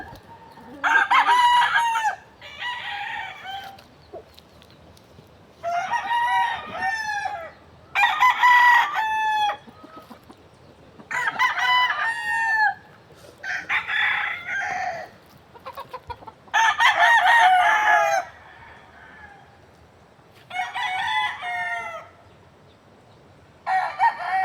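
Roosters and hens at a poultry farm: a long run of repeated cock-a-doodle-doo crows, about ten in all, coming every couple of seconds and overlapping near and slightly farther, over a quiet background with the odd cluck.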